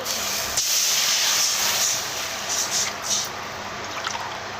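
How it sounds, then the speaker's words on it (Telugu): Water hits a hot pan of rice that was dry-roasted for about three minutes, raising a loud, continuous steaming hiss that hangs on for several seconds and slowly eases. No one speaks. "ఇప్పుడు వాటర్ వేస్తామండి"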